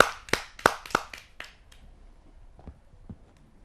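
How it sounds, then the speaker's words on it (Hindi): Scattered claps and snaps from an audience at a Hindi poetry gathering welcoming a poet, a few sharp hits in the first second and a half, then fading to sparse taps. "आइए जोरदार तालियों से उसका स्वागत करते हैं।"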